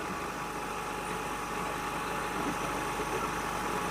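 Honda Activa scooter engine running steadily at idle during RPM adjustment in a workshop, an even, unbroken drone close up without noticeable revving or speech.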